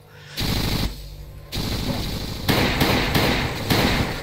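Submachine gun fire in the video game Last Day on Earth, several loud close bursts of rapid shots separated by short pauses, with no talk over them.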